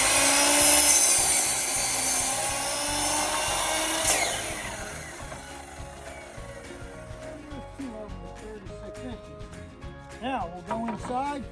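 A hand saw cutting wood for a homemade sofa table gives loud rasping strokes at first, then fades into quieter scraping and tapping under a person's speech.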